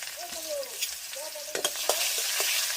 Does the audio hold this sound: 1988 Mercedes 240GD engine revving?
no